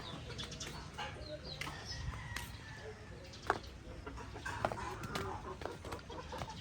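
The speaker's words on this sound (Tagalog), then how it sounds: "Daming manok dito." Chickens clucking and calling at a moderate distance amid outdoor farmyard ambience, with scattered short squawks and faint background noise.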